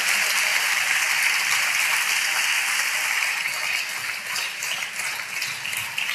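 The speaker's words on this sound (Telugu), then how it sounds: "చేతులెత్తి గట్టిగా అందరం చప్పట్లు కొడుతూ స్తోత్రాలు చెప్దాం" A church congregation claps hands loudly together during a sermon, a dense, steady roar of applause that holds for several seconds and eases slightly toward the end.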